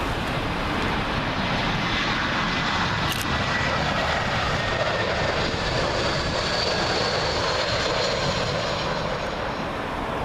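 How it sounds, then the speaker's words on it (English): Arriving at Heathrow from Belfast, a British Airways Airbus A319 jet roars steadily and loudly overhead, with a thin high whine running beneath the broad engine noise for the full span. "Next up, British Airways A319. This one from Belfast."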